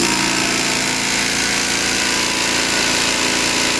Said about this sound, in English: So that's it. That's the air compressor.